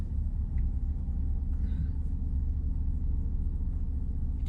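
Alfa Romeo Giulia Quadrifoglio engine rumbling steadily and loudly at low pitch, a continuous deep drone with no talk over it.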